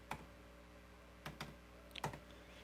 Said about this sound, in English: if I type in a hex value